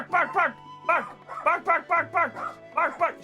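A person imitates a dog barking, voicing a quick string of about a dozen rhythmic yapping barks in short bursts, close and loud, with the voice plainly human.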